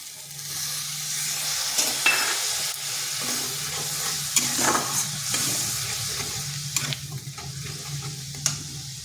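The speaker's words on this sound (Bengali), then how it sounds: "এরপর আঁচটা স্লো রেখে বেশ কিছুক্ষণ এইভাবে সময় ধরে মশলাটা কষিয়ে নিতে হবে।" Spice paste with chilli powder and a splash of water sizzles steadily in a pan while being stirred and fried, with the spoon's scrapes and small clinks recurring over the constant close frying hiss.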